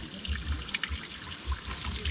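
Drinking water running from a spout outdoors, a close steady splash and trickle with small irregular drips and patters, heard alone.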